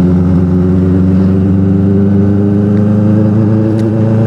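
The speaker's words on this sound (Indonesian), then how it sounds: "Suaranya enak banget motor ini." A Kawasaki ZX-25R Limited Edition four-cylinder motorcycle engine revs up close by, its smooth layered hum rising steadily and loudly for a few seconds.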